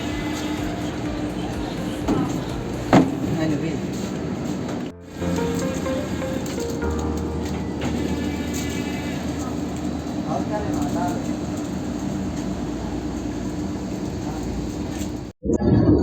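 Steady rumbling and rattling of a moving Vande Bharat train heard from inside a carriage, with people talking over the continuous noise.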